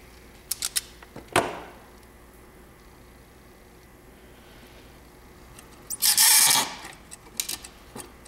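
Wire strippers take about a quarter inch of insulation off the ends of a wire: a few small clicks, one sharp snip, then a longer rasping pull near the end. Close and fairly quiet, with no voices.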